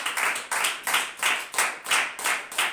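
A church congregation claps hands together during a Sunday service, a steady rhythmic beat of about two claps per second, loud and full, with many hands blending into each burst.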